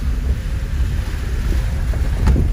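Heavy rain pours and floodwater rushes along a main city avenue in Macaúbas, Bahia, a loud steady broadband roar with wind buffeting the microphone throughout.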